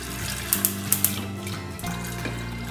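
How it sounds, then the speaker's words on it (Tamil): Water runs steadily into a cooking pot, with a few sharp clinks of metal near the start and a brief dip in the flow midway. "இதை வந்து இப்போது தண்ணி ஊற்றி வேக வைக்க போகிறேன்"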